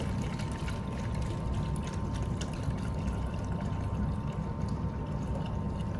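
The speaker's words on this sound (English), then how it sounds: "So I'm gonna pour this in." Coolant is poured by hand into a car's cooling system while bleeding out air, a steady close liquid splash and gurgle that runs unbroken with no talk.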